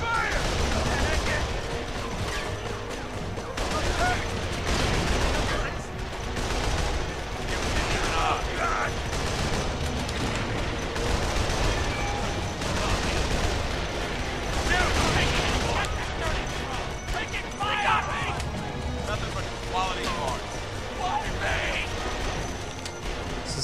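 Gunfire and mechanical clatter from an online shooter game, The Outfit, with dense overlapping bursts and a busy battle din running throughout, under occasional speech.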